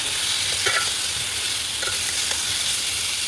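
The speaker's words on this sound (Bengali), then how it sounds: "দিয়ে মশলার সাথে ভালো করে মিশিয়ে নিতে হবে নেড়ে চেড়ে।" Pointed gourd (potol) is stirred with spices in a frying pan, a continuous soft sizzle with a few scraping stir strokes, close and steady, with no talking.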